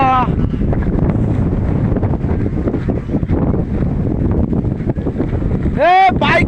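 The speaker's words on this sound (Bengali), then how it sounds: "কি ঠান্ডা হাওয়া" Strong cold wind gusting ahead of a storm, loud buffeting rumble against the microphone throughout, with a voice speaking briefly near the end.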